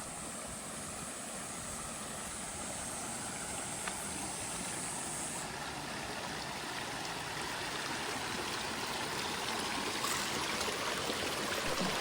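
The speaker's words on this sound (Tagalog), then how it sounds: "So yung tubig is galing sa bundok kung saan may snow." A snowmelt mountain stream in Andreas Canyon near Palm Springs, California, rushes steadily and close by for the whole stretch, a dense unbroken wash of water with no voices.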